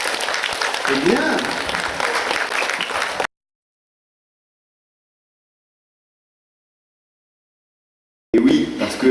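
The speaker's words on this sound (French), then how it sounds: "Oui, on s'applaudit, super." Audience applause at a family dance show: a dense patter of clapping with voices mixed in, cut off by a long silence before briefly returning.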